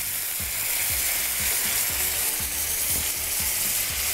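Vinegar hits spiced potatoes frying in a pan with red chili and turmeric, giving a steady loud sizzle, punctuated by repeated soft scraping stirs at about two per second.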